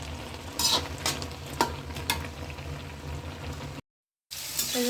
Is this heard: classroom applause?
no